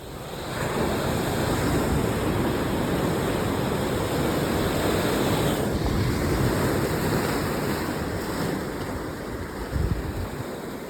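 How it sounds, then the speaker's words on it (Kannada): Heavy ocean waves and surf roar continuously at a shoreline, a loud, steady wash with wind buffeting the microphone and no voices. "ಅಲೆಗಳ ಸೌಂಡ್"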